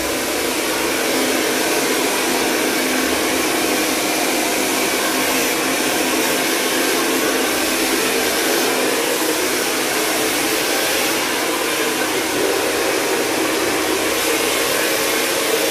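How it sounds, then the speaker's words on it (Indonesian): An electric hair dryer runs in a salon, giving a loud, continuous blowing whoosh that holds steady for around sixteen seconds, close to the microphone, with no talking. "suara asli hair dryer ini asli berisik banget nih."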